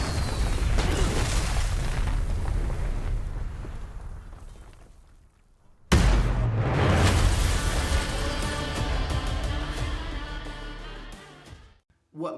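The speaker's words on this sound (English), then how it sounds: "Did he just catch a rocket? He got a rocket." A rocket explosion from an action movie scene in Black Adam, a loud sustained blast that fades, then a second big burst with a roaring rumble that tapers off, with faint voices.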